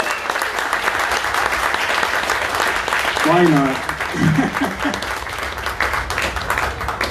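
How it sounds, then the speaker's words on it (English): Audience applause at a live bagpipe piping show: dense, continuous clapping from a crowd throughout, with a voice speaking briefly over it. "give them a round of applause, guys."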